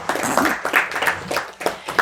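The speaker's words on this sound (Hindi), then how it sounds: "अच्छी लगती तो ताली बजाते।" Audience members at a spiritual discourse in a Markham, Canada home clap in uneven bursts, a few rounds of applause from a small group over about two seconds.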